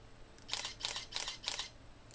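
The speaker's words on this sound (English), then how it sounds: "I'll be holding the shutter here." A camera in continuous shooting mode with the shutter button held down fires four rapid, evenly spaced shutter clicks close up, then a faint final click.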